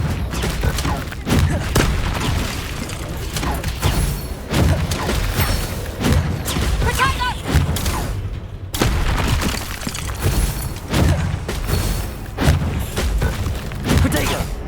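Bombarda spell explosions in the Hogwarts Legacy video game: repeated booming blasts and crashing impacts over constant battle noise, with a voice shouting spell names throughout.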